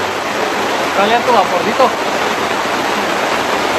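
Heavy rain pours down outside a building under construction, a loud, unbroken hiss of water, while a voice speaks briefly over it.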